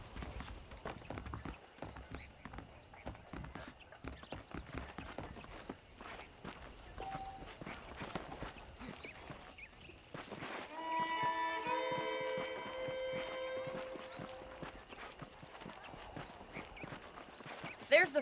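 Saddled horses walk with steady, close clip-clop hoofbeats in the Western game Red Dead Redemption, under talk and ambient sound, with a brief whinny-like tonal burst midway.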